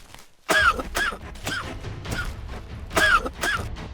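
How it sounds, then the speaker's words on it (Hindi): A run of light coughs repeating about every half second, close by, with no talking. "अगले दिन राजा को हल्की खांसी आती है।"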